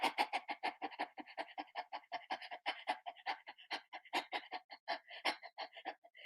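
A person imitates a dog panting after a big run during a laughter yoga breathing exercise, with quick, rhythmic, breathy pants repeating steadily for several seconds, close and fairly quiet.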